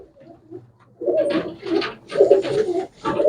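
Pigeons coo in a loose run of soft, throaty calls, faint at first and then louder and close, each coo a short rolling burst with brief gaps between.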